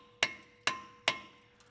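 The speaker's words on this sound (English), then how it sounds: "take a hammer and just shock it." A hammer strikes a T50 Torx bit seated in a Volvo XC60 brake rotor screw, giving three sharp metallic taps evenly spaced about half a second apart, close up, with a faint fourth tap at the end.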